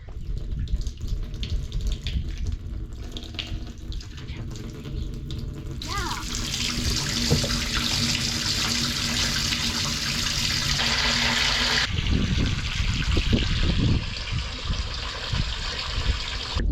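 Water pours and gushes steadily into a hollow septic tank, the flow surging louder partway through, with occasional voices and clunks nearby.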